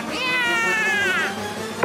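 A voice actor imitates a cat with one long, wavering, nasal meow lasting over a second, loud and close with no other sounds.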